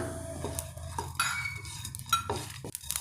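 Pepper and cumin go into a pan for chicken ghee roast, giving a few clinks and scrapes of a utensil against the metal pan and a light stirring, with no talking.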